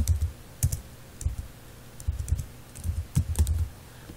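Code for a Java servlet being typed on a computer keyboard, with quick close key clicks in uneven bursts and short pauses, heard alone.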